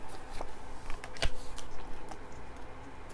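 Tarot cards are shuffled by hand in a quiet room, giving soft, irregular riffling and tapping with one sharper snap partway through.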